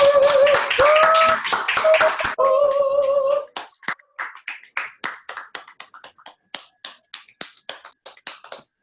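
At a corporate business setup meeting, loud dense clapping with a voice over it gives way to scattered individual claps and taps that thin out and fade into sparse, separate strikes.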